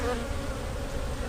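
Honeybees buzz at an open hive frame during a spring inspection, a dense, steady, close swarm drone with no voices over it.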